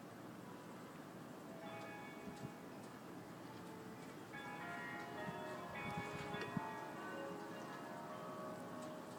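Bells toll with an echo, ringing tones that repeat and overlap over a steady bed of outdoor background noise throughout.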